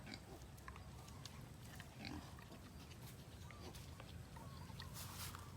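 Pigs and their piglets kept in the original pen area at the back of a farm make a steady, continuous chorus of grunting and snuffling with a dense barnyard background.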